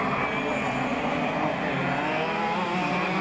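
Senior-class racing karts in the Singapore Karting Championship drone past on the circuit, with a loud, continuous buzzing engine roar that stays near and steady throughout.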